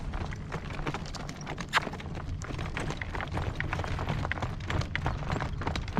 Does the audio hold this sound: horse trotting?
yes